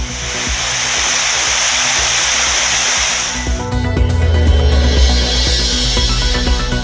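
Courtallam waterfalls in Tamil Nadu flow steadily with reduced water volume, a loud continuous rushing roar that shifts in tone partway through as the scene changes.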